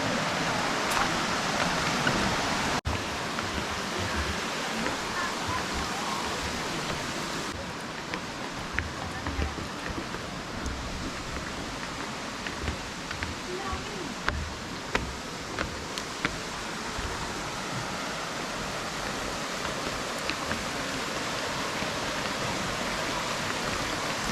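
Erawan Waterfall in Kanchanaburi gives a soft, steady rush of water in the background, fairly faint, with occasional insect buzzing and someone talking over it.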